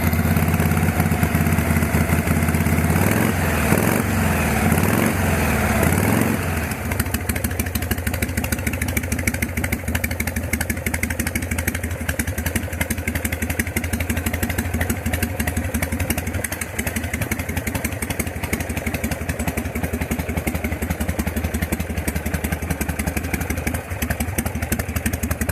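A chopper-built 1962 Harley-Davidson panhead idles alone and close, with a steady loping rumble and mechanical clatter, fuel on reserve and choke off.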